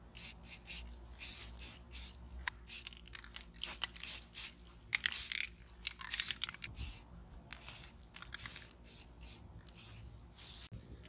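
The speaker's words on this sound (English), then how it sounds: "a couple tips when you're spraying primer." Repeated hissing bursts from a can of spray primer on a Jeep tire carrier, short and long blasts with pauses between, close to the microphone, with faint rattling in between.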